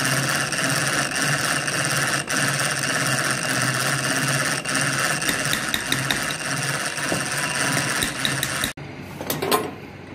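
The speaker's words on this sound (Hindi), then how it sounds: "एक ये मशीन है ये किस काम आती है पंखे भरने काम है" Ceiling fan coil winding machine in a repair workshop running steadily with a continuous whirring, rattling mechanical drone, loud and close, briefly cutting out near the end.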